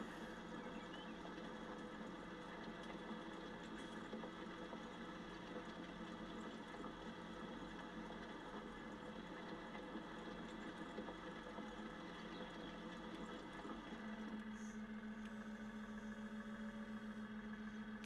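A continuous low tractor engine drone in the video game Farming Simulator 19 hums steadily throughout, with a slight shift in tone near the end.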